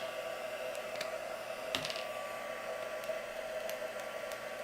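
A hair dryer blows steadily to dry paint, a constant even airy whoosh at moderate distance with a few faint clicks and taps over it and no speech.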